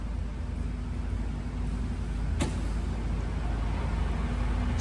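A Colchester Triumph 2000 lathe spindle runs at 625 RPM, giving a steady, loud, even mechanical whir and hum with one brief sharp tick partway through.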